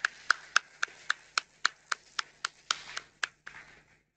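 About a dozen sharp, evenly spaced hand claps ring out at a slow, steady pace in a quiet room during an annual members' meeting, fading slightly at the end with no voices over them.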